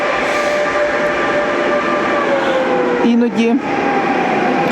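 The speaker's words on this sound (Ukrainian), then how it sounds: "Прибуває інший потяг." A passenger train pulls into a station on the Adriatic coast, giving a loud continuous rumble with tonal squeals from wheels or brakes, and a person speaks over it.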